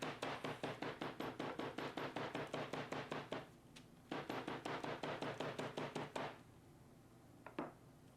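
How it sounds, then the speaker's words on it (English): A smooth-faced cobbler's hammer pounds a leather braid in quick, steady blows, two bursts of about fifteen even strikes each separated by a short pause, then a few scattered taps, close and solid with no talk. "I'm going to beat it with a hammer. And this is actually a cobbler's hammer with a smooth face on it."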